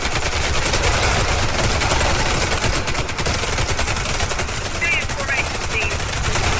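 Continuous rapid gunfire from the video game Warface in a zombie mode, loud and dense automatic bursts filling the whole stretch, with a voice talking briefly underneath.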